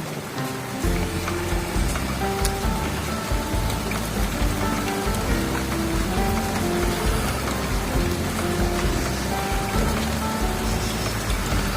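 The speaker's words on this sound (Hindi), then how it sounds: "तो इस तरीके से बारिश बहुत अच्छी हो रही है और करीब लगभग आधा घंटा हो गया बारिश पड़ते हुए" Heavy rain pours steadily onto potted adenium plants outdoors, a dense, continuous hiss and patter of drops that stays loud and even throughout with no voices.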